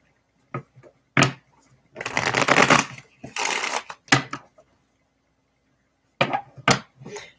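Tarot cards being shuffled in several short bursts of riffling and tapping, close up, separated by quiet pauses.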